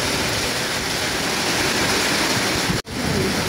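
Heavy rain pours down in a dense, loud, continuous roar close by, broken only by a brief dip near the end.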